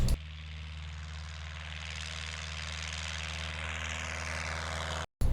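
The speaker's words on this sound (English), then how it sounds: "This is my friend Frankie with his Taylorcraft 65 horsepower." A Taylorcraft light airplane with a 65 horsepower engine drones steadily and loudly through the whole stretch, with a constant propeller hum during off-airport flying, cutting off briefly just before the end.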